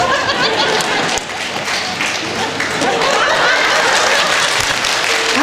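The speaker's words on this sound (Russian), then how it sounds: "Аплодисменты." Steady applause from a concert audience at a 2014 show in Shepetivka, dense continuous clapping filling the space with faint crowd chatter underneath and no break throughout.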